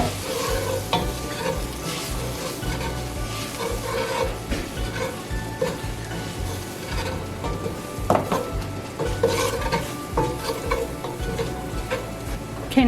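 Flour is stirred into browned sausage in a frying pan, producing a continuous close sizzle with repeated spoon scrapes and occasional clinks against the pan, no talking.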